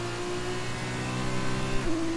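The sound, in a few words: F2 race car engine onboard, from a racing video game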